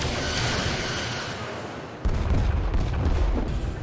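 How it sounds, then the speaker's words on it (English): Starship torpedoes fire and burst in a Star Trek Resurgence space battle: a dense roar gives way to a sudden, louder deep boom about halfway through, followed by sustained rumbling blasts, with no talking. "Firing torpedoes."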